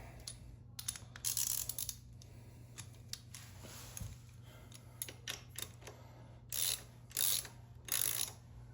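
An extension being pulled off a ratchet while installing a foot peg on a 2022 Yamaha YZ250X, giving close metallic clicks, rattles and several bursts of ratcheting against a quiet workshop hum.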